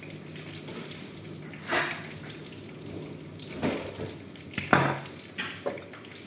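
A spoon stirring ketchup, chilli sauce and other sauces together in a bowl, giving soft wet swishes with a few sharper clinks against the bowl, close and fairly quiet.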